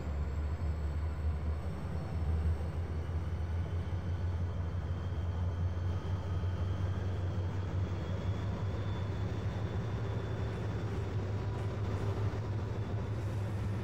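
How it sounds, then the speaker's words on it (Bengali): A Banalata Express train departs Rajshahi railway station in the BTZS train simulator game on PC, giving off a steady, loud low engine rumble with an even hiss that holds without a break throughout. "আমরা এখন রাজশাহী রেলওয়ে স্টেশন থেকে ডিপার্চার নিচ্ছি।"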